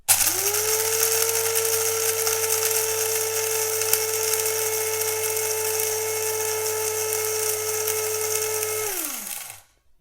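A coffee grinder whirs steadily through a load of coffee beans, a loud, even motor drone that holds for about nine seconds before spinning down and stopping.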